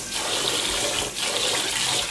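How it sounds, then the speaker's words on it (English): Cold tap water runs in a steady, close gush over sticky rice being rinsed in the kitchen, loud and continuous with a brief dip partway, no talking. "First, wash with the cold water."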